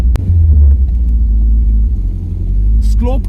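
An older turbocharged car drives along, its engine producing a loud, steady, low rumble that holds throughout, with a brief vocal sound near the end.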